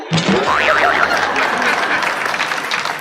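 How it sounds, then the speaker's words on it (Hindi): An audience claps and cheers in a sustained burst, with a brief whistle rising over the applause near the start. "जरा जोरदार तालियां वालियां बजाते रहिए, तालियां आगे चाहिए"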